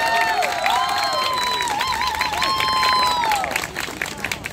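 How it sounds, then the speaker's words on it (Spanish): Outdoor audience in a plaza in San Telmo applauding and cheering young tango dancers after a street performance, a dense continuous wash of clapping with shrill whoops and whistles riding above it throughout. "quiero pedir un fuerte aplauso para Adrián y para Chuchi"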